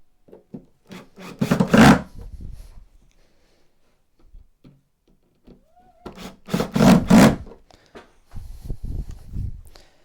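Screws being driven into the wooden backboard of an N gauge model railway, with two close bursts of loud rasping, grinding turns separated by quiet stretches and scattered small knocks.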